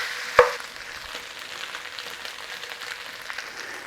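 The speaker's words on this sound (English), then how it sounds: "it doesn't take 25 minutes to cook a little bit of sausage meat" Sausage meat frying in a pan for biscuit gravy, a fairly quiet, even sizzle heard up close after one sharp clink at the start, with no talking.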